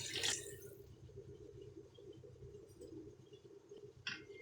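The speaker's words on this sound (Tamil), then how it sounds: "குழம்புக்கு தேவையான தண்ணி ஊற்றி போகிறேன்" Water poured from a vessel into karaboondi gravy cooking in a pan, a faint, steady liquid trickle over a low kitchen hum, with a brighter splash at the start and another near the end.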